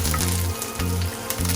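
Curry leaves hit hot oil with a loud, dense crackling sizzle, and a low pulsing hum underneath stops and starts in a repeating pattern.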